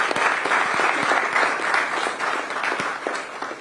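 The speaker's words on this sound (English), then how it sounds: "Please, a good round of applause for her for me" Sustained applause from an audience at a climate diplomacy panel event, a steady wash of many hands clapping that holds for several seconds and tapers slightly at the end, with no talk over it.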